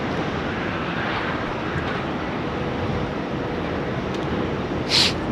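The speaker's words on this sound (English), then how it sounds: "positioned as number two behind the Qantas 650, coming in now on 16 right" A Qantas airliner lands on runway 16 right at Sydney Airport, its engines a steady broad roar heard from a distance, with a short high hiss near the end.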